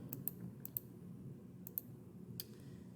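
Several sharp, quiet computer mouse clicks, a few spaced single and double taps over a faint background hum, no talk.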